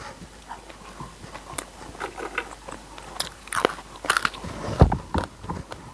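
Crisp pork cracklings are bitten and chewed with a Thai green chili dip, sharp crunches popping irregularly up close over several seconds, with no talking.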